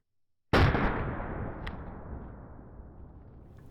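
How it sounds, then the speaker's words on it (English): A single 30-06 rifle shot from a relatively short, unported barrel cracks out loud and close after brief silence, its powerful muzzle blast decaying into a long reverberant tail. "with a relatively short and unported barrel, the muzzle blast off that rifle is pretty powerful"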